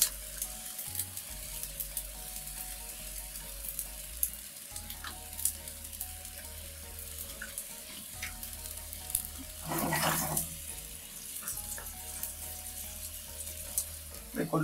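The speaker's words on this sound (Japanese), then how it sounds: "これで蒸し焼きにしていきます。" Kinmedai (golden-eye snapper) with tomatoes and fresh kogomi fern shoots steam-frying in a covered pan, a steady low sizzle and faint bubbling throughout, with a brief louder hiss near the end and some quiet background clatter.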